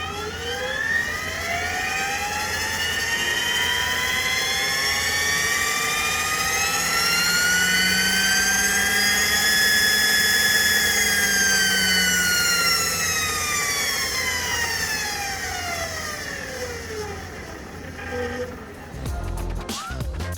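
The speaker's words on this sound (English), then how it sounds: "let's have a listen to its electric motor" A 2022 BMW CE 04 electric motorcycle's motor whines as it speeds up and then slows down, a rising and falling high-pitched tonal hum passing steadily close by before fading at the end.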